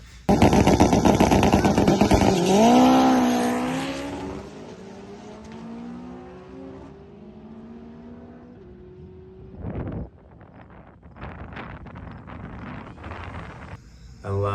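An all-wheel-drive Honda Civic on a drag strip roars hard under acceleration, then the engine note drops away as the throttle lifts, followed by quieter coasting with a few sharp crackling pops.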